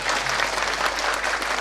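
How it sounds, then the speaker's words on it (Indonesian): Enthusiastic audience applause after a village folk arts performance at an Indonesian tourism village event, steady close clapping from a crowd with a low hum underneath. "Kita berikan tepuk tangan yang meriah."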